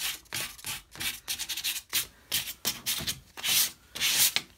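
A wooden hutch coated in Old White chalk paint is sanded by hand in close, rhythmic rasping strokes, each pass rising and falling in quick bursts with brief pauses between.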